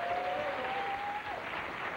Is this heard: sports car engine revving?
no